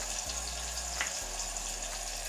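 Fenugreek leaves frying with sliced onions in a pan, a steady hissing sizzle running unbroken and fairly close, with no talk over it.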